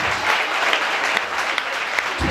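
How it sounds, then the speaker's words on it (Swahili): Church audience at a live service applauding, a dense, steady wash of clapping filling the whole stretch with faint voices mixed in. "Simpige Brian makofi"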